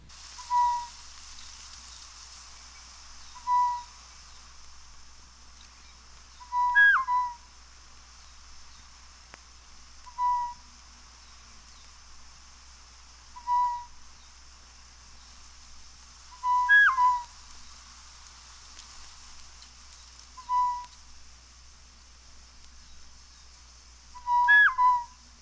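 A pair of African birds trade clear, bell-like duet notes, ringing out in spaced single and doubled calls every few seconds against a quiet, faintly hissing background.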